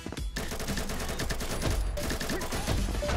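Rapid, continuous automatic gunfire from the first-person shooter Combat Master, loud and dense throughout after a brief quiet start, with sustained bursts of shots.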